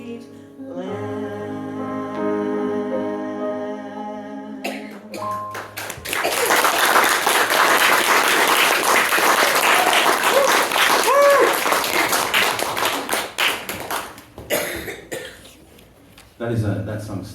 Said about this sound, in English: that needs another round of applause